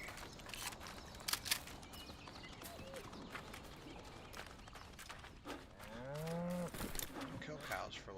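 Cattle mooing in the video game Atomic Heart, a couple of low drawn-out moos near the end over steady game ambience and scattered clicks and thumps.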